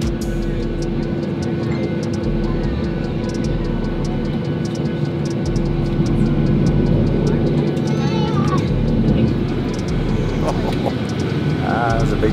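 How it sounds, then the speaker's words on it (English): Jet planes take off at an airport, heard from an aircraft waiting on the tarmac to taxi: a steady, loud engine roar and rumble that holds throughout, with faint ticking on top. "all the planes taking off while we're sitting on the tarmac here waiting to taxi."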